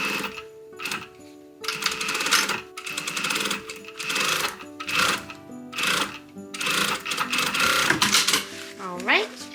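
A sewing machine runs in repeated bursts of rapid mechanical stitching, with short pauses between, sewing binding onto a snake-print fabric corset while someone talks.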